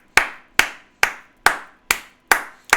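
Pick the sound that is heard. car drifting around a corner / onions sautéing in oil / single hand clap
single hand clap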